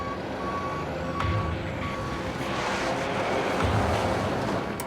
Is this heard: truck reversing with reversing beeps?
yes